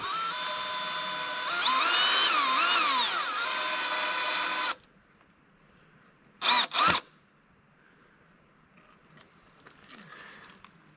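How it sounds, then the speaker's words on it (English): A power drill drives a screw into wood, whining loudly for several seconds with pitch changes as it bites, then stops; two short bursts of drilling follow after a pause. "So now we'll run this screw in till it comes out the bottom here just a little bit"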